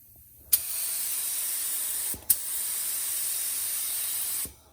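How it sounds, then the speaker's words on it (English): Spray gun applying paint to a 1990 Mustang GT, two sustained hissing bursts with sharp starts and stops, each lasting about two seconds, close and steady with a short pause between. "Now that's a spray gun."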